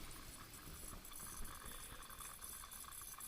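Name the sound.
toilet water leak running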